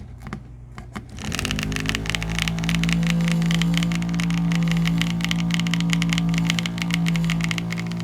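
A vortex mixer shakes a bottle of paint, starting after a few quiet taps and then holding a loud, continuous rattling buzz close by with no talking.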